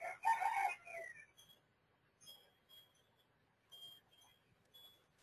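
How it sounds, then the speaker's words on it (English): A rooster crows loudly at the start, followed by a few fainter, brief calls at intervals in a quiet setting. "You love roosters too?"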